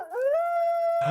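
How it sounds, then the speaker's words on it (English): A dog howls in the video game Society: Sunlit Valley, one long sustained rising-then-steady tone with clear harmonics that holds for about a second, loud and alone. "That's a dog."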